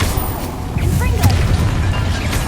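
A Confringo explosive spell goes off in Hogwarts Legacy, a loud booming blast with crackling bursts over a dense rumbling low end, filling the whole moment amid busy combat noise.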